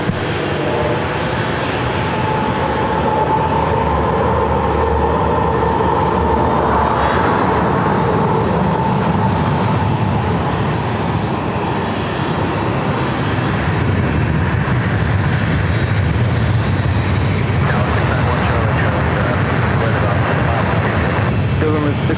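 A Southwest airliner taking off from San Diego airport, a loud steady jet engine roar that holds for the whole stretch with a slowly shifting pitch.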